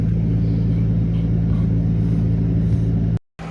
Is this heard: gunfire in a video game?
no